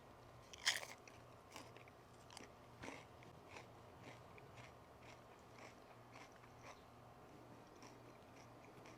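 One sharp crunchy bite into smoked fried dill pickle dip topped with crisp pretzels, followed by quiet, soft chewing close to the microphone.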